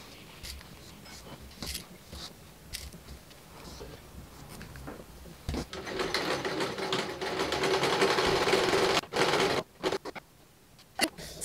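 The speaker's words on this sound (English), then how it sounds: "then from the notch downwards you'll stitch normal stitch, making sure to back stitch from top to bottom." Sewing machine running a seam on a gown, quiet handling and fabric rustle first, then a sustained close motor whir for several seconds broken by brief stops and restarts.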